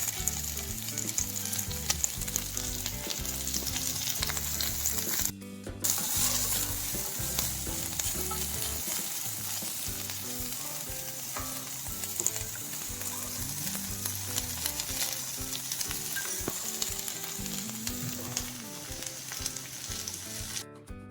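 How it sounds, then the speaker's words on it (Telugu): Onions sizzle steadily in ghee in a pan as they fry to golden, a dense continuous crackle with occasional stirring scrapes, loud and close with no talking. "ఉల్లిపాయలు గోల్డ్ కలర్ వచ్చేదాకా వేయించుకోవాలి"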